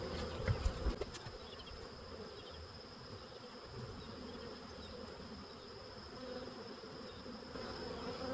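A swarm of honey bees hums in a steady, low drone during transfer into a hive, with a few brief knocks early on, then even buzzing continuing throughout.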